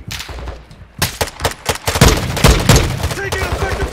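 Gunfire in Call of Duty Warzone 2: rapid bursts of close, loud shots in repeated volleys, with a voice talking over the shooting.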